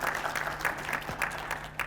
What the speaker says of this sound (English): members would definitely appreciate by giving a very good round of applause for the activities